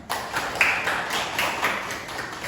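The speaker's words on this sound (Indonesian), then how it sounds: "Mari kita berikan aplaus untuk kita semua" A classroom of students applauds groups 1 and 2 during a math lesson: steady, dense clapping from many hands lasting a couple of seconds, moderately loud and with no talk over it.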